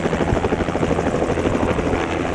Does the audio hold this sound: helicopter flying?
yes